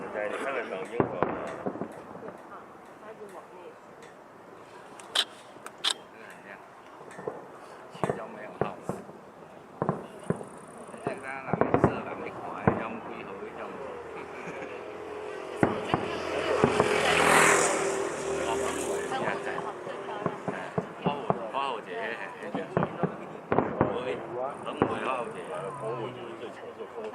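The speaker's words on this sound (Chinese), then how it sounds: "在你看得到烟火吗？" Fireworks at a New Year's Eve countdown show at Janfusun Fancyworld, Taiwan, heard as scattered sharp pops and crackling bursts under a continuous hum of crowd noise, with people talking nearby throughout.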